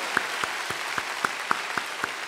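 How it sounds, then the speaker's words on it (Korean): Rhythmic group clapping from a church congregation at a Baptist New Year's Eve service in Yeouido, steady evenly spaced claps in unison, about four per second, moderately loud. "다시 한번 새해를 주신 우리 하나님께 큰 박수로 영광 올려드립니다"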